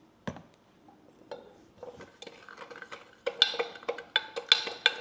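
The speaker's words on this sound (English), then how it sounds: "And then you're going to mix it up really well" Hot sauce, soy sauce and other marinade ingredients are stirred in a bowl for beef jerky, quiet at first and then a quickening run of sharp clinks and scrapes of a utensil against the bowl, close and without talk.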